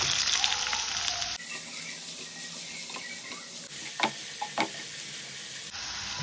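Chopped onion hits two tablespoons of hot oil for paneer bhurji, with a loud hiss that opens and closes the passage. Quieter frying and several crisp scraping stirs fill the middle.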